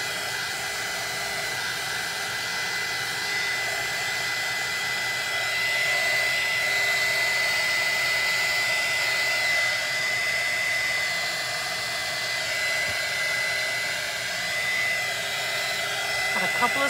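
A hair dryer blows steadily over a resin-coated glass pumpkin, a loud continuous whoosh and whine that holds for the whole stretch with a slight swell in the middle, no voices over it.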